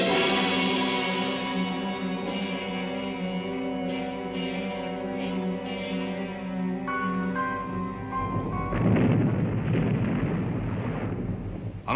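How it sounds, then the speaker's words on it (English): Heavy Great War artillery bombardment with gas and high-explosive shells on the Italian positions along the Isonzo in 1917: a continuous roaring rumble with dull bursts that swell louder and rougher toward the end. "a heavy bombardment by gas and high explosive shell drenched the Italian positions on the Isonzo"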